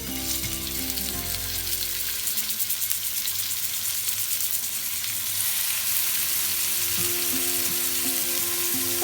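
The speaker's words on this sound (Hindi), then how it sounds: "मैं इनको फ्राई करती हूँ। हल्का सा पैन में ऑयल डालती हूँ, ज्यादा नहीं, थोड़ा सा बस।" Paneer tikka sticks fry in a little oil in a pan over low gas, giving a steady, close, crackling sizzle that holds evenly throughout.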